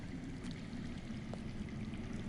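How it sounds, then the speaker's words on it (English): Underground running water in the Telltale Game of Thrones video game, a steady faint pouring stream with a soft, continuous flow and no talk over it. "I hear water. From underground."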